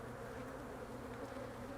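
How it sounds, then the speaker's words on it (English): Honey bees in a hive give off a dense, continuous buzzing drone, close and steady throughout, with no voices. "just to check out the bees in here"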